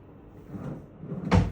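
A short wooden thud as a hotel room drawer is pushed shut, preceded by a faint soft rustle of it moving.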